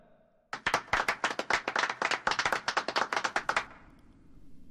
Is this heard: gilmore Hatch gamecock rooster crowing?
no